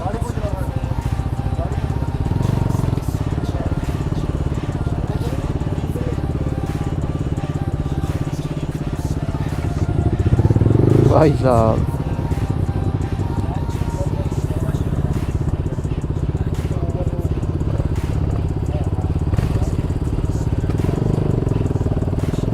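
Motorcycle fitted with an Akrapovic exhaust riding past on a Sunday group ride, its engine rising and falling in a brief rev under continuous road and wind noise, with people talking over it.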